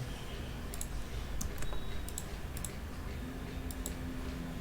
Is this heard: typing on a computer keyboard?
yes